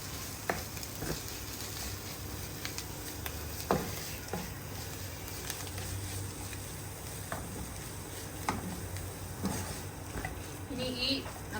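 Fresh coriander leaves being stirred into sizzling masala for prawn biryani, a steady low frying hiss broken by scattered clicks and scrapes of the spoon against the pan.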